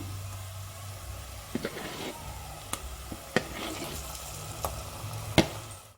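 Ginger garlic paste frying in a pan for mutton curry, a soft, steady sizzle with a low background hum and several sharp stirring clicks and taps from a utensil scattered throughout.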